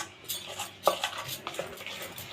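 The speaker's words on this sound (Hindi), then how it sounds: "इसको इस तरह से फेंट के रख दूँगी" Flour batter being whisked by hand in a bowl in a home kitchen, a steady run of soft scraping and tapping strokes with one sharper clink near the start, close and moderately loud with no talking.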